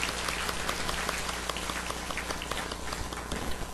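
A church congregation applauds together, a steady wash of many hands clapping at moderate distance, fairly quiet and continuous throughout.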